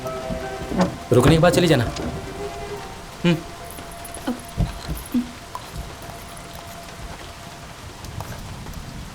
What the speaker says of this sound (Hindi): इतनी बारिश हो रही है, कहाँ जाओगी तुम?